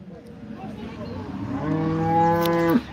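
An HF cow at the Loni cattle market lets out one long, rising moo that swells and cuts off sharply near the end, heard close over a steady murmur of market noise.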